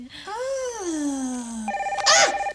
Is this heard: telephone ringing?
yes